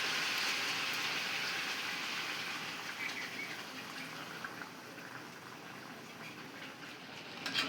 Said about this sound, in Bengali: এখন আমরা দুধ দিয়ে দিব।